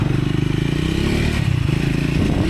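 A Triumph Scrambler 400X motorcycle engine runs close and loud with a steady pulsing drone, rising slightly as it shifts up through the gears.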